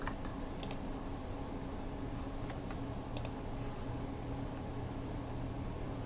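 Sparse, faint keyboard clicks from typing on a computer keyboard while writing HTML code, with a few short bursts of keystrokes over a steady, quiet background hum.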